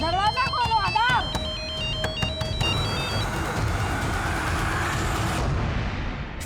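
A mobile phone ringtone plays a bright, chirpy melodic pattern of repeated tones close by, then gives way to a noisy background as the ringing cuts off.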